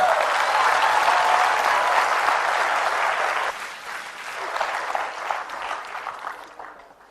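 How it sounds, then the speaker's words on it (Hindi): Loud applause from a live audience for a man called to the stage, thick clapping at first that drops in level partway through, then continues as scattered, lighter claps before fading. "चाहता हूं जोरदार तालियां भरत के लिए हो जाएंगे"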